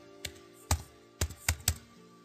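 A computer keyboard clicks in a handful of sharp, close keystrokes spaced unevenly, typing a short file name in a quiet room.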